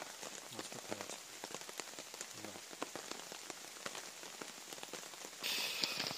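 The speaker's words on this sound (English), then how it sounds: "Listen to the rain." Heavy rain pours down steadily during a torrential storm while wild camping in North Wales, a dense hiss of drops drumming on a surface, loud and continuous throughout with no voices.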